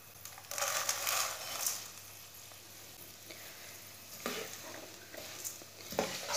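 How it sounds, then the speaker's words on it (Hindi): Thick vermicelli roasting in a pan while a spoon stirs it, giving soft dry scraping and light crackle that swells and fades across several strokes, close and fairly quiet with no speech. "सेवियां डाल के इसे मीडियम आंच पर 2 मिनट के लिए हल्की सी आंच पर भून लेंगे। इसे चम्मच चलाते हुए भूनना।"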